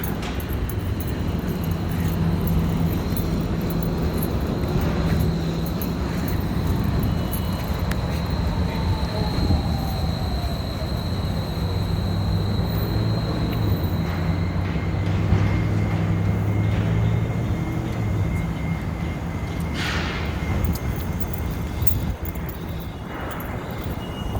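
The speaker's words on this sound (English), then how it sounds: "Here comes the streetcar." Portland streetcar passing through the South Waterfront district, a loud rumbling rail roll with rattling wheels and a rising metallic squeal, close by and sustained, fading slightly at the end.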